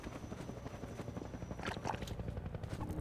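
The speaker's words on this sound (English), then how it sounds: "Helicopter, helicopter!" A video game helicopter thrums steadily under a dense, noisy game soundscape, low rotor chop continuing throughout without pause.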